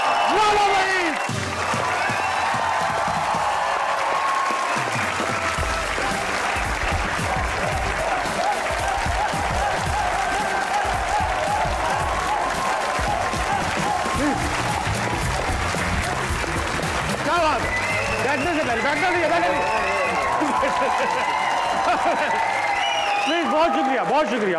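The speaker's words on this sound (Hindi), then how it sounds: "आपकी तालियों में दावत देना चाह रहा हूं हॉकी टीम के स्टार सुफियान खान, अब्बास भट्ट, राना वहीद" A studio audience claps for visiting national hockey team players on a comedy talk show, sustained applause filling the room throughout while a host speaks over it.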